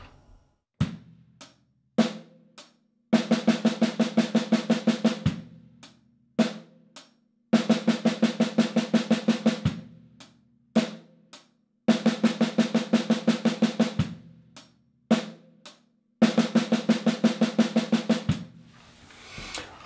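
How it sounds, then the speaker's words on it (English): A drum kit plays a simple rock beat alternating with bursts of rapid 16th-note triplets on the snare, loud and close, in repeating phrases separated by short pauses, with no talking. "half a measure of a simple rock beat and half a measure of 16th triplets on the snare."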